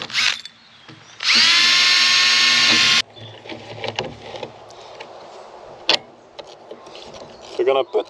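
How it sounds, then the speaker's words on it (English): A power drill bores holes for an outboard bracket and backing plate on a 19ft sailing boat, with one loud high-pitched burst of about two seconds. Clunks, handling knocks and brief talk follow. "drill the rest of the holes"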